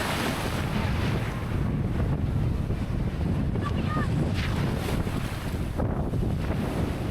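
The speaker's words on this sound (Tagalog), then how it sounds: "Grabe guys, ang, ang tataas ng mga alon oh." Steady wind buffets the microphone over the rush of high ocean waves at a beach in Dingalan, Aurora, a loud continuous roar with faint voices in the background.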